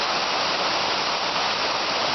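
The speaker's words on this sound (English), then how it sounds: "Here we are at Becky Branch Falls. Got a lot of water today after some good showers we had last night." Becky Branch Falls on a forest trail, running high after overnight showers, gives a steady, dense roar of falling water, loud and unbroken throughout with no other sounds.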